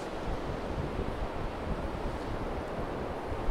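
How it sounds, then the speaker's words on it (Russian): Surf rolls onto a huge beach in Asturias, northern Spain, a steady broad roar of waves mixed with wind buffeting, continuous and fairly loud with no voices. "Огромный пляж с зоной для отдыха."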